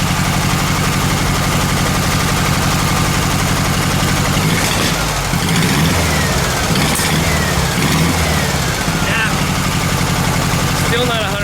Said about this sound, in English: Now it's running much more evenly.